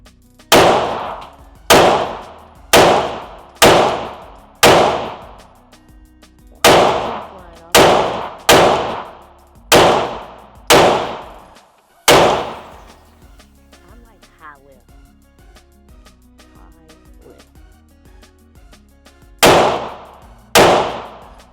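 Sharp, loud pistol shots from a Springfield Prodigy handgun, fired at a steady range pace: a run of about eleven evenly spaced reports, a quiet pause with faint background noise, then two more shots close together near the end.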